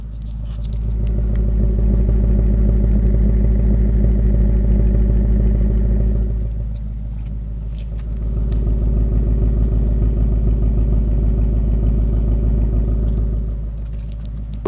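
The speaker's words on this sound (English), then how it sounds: "Now I'll walk around the back and we'll get a listen to that exhaust." A 2020 Ford Mustang Bullitt with a six-speed manual idles and revs, its exhaust giving a deep loud burbling rumble that swells, dips briefly, then rises again close by.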